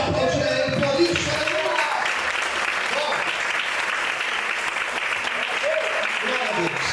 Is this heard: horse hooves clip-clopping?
no